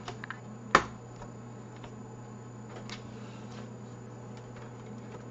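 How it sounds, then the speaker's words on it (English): Lenovo ThinkPad T430 laptop keyboard slid into place during repair, one sharp plastic click followed by faint scattered ticks over a low steady hum. "Slide the keyboard in from the top."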